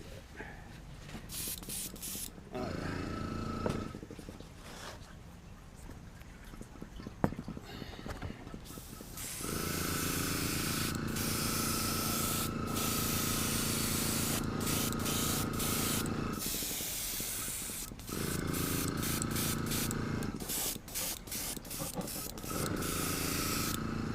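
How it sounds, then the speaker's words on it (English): Steady hissing spray from a nearby airbrush painting fishing lures, starting and stopping in short and long bursts, with quiet gaps between passes. "Man, that's spraying good."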